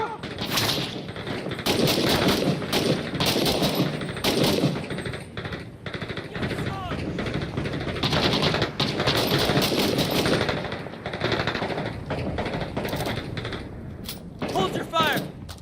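Rapid bursts of suppressive machine-gun fire in a realistic shooter game, loud and close, with sharp clustered shots and short pauses between volleys under a busy battle mix.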